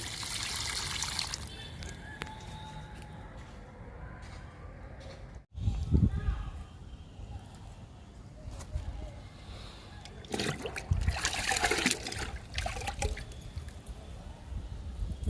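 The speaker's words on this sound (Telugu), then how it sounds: "ఎడేనియ మొక్కకు లిక్విడ్ ఇస్తున్నాను" Liquid fertilizer being poured onto an adenium plant, faint intermittent trickling and splashing in short bursts, with a person talking in between.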